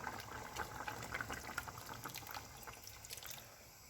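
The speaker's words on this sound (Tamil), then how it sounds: "இந்த டைமில் வந்து நாங்கள் ரெடி பண்ணி வச்ச தேங்காய் பாலை சேர்த்துக்கொள்வோம்" Coconut milk pours into a simmering tin fish curry, a soft continuous liquid trickle and bubbling that stays steady and close for the whole stretch, with no talking.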